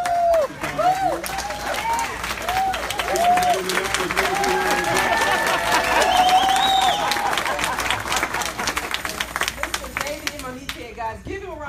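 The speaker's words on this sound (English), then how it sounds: "please stand up, give her a big round of" An audience at a gathering applauds a guest, Dr. China Bentley, as she stands, with sustained clapping and crowd noise running throughout, mixed with bursts of cheering and loud voices.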